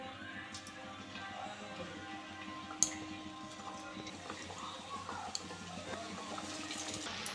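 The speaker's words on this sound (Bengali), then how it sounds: "আমি এবার ভেজে নেব সিঙ্গারাগুলো।" Potato-carrot singaras deep-fry in hot white oil in a kadai, a steady faint bubbling hiss with scattered crackles and one sharp tap, close and without talk.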